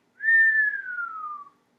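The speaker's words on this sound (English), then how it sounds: "My shell made a whistling noise." One clear whistle glides slowly downward in pitch for over a second, then stops. Everything around it is silent.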